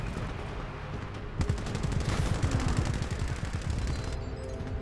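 Dense automatic gunfire in the Titanfall 2 campaign, starting with scattered shots and then settling into a fast, steady rattle of rounds that carries on to the end, loud and unbroken, with no speech.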